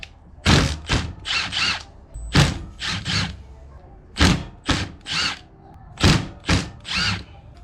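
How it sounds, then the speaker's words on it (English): Impact driver with a T30 Torx bit backing bolts out of a plate on an engine build, loud close bursts of hammering rattle repeated about a dozen times in quick, uneven sequence. "I'm just gonna use mine, which is on the impact."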